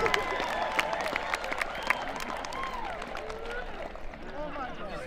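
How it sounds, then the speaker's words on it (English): Sustained applause from a large crowd at a 2022 high school career and technical center commencement ceremony, steady clapping with occasional cheers, moderately distant, under faint background voices. "how about another round of applause for all of our students, our staff, our aides, our secretaries"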